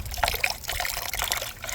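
Water trickles and splashes briefly into a homemade plant food mixture of bone meal, blood meal and chicken manure, a short, close, bubbly pour with small uneven spatters.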